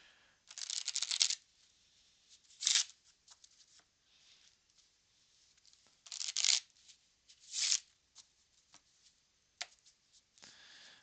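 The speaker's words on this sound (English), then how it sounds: "We are going to scandalously shuffle these two decks together." Two decks of playing cards being shuffled together, giving several loud riffling bursts with softer card handling and taps between them, close up and with no talking.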